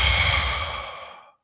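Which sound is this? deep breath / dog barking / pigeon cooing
deep breath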